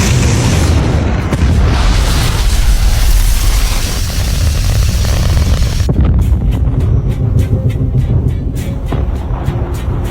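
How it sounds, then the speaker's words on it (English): Two interceptor missiles launching in the film A House of Dynamite, a loud continuous roaring blast that holds steady and then shifts into a rumbling thrust with rapid crackling pulses. "At the same time, 2 interceptor missiles are launched."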